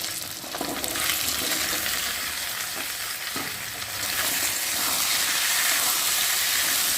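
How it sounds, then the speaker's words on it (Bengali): Taro and potatoes fry in a pan of hot oil with a loud, steady, bright sizzle that holds throughout and grows slightly fuller toward the end, with no voices. "এখন আমি কচু আলুগুলো দিয়ে ভালো করে ভেজে নেব"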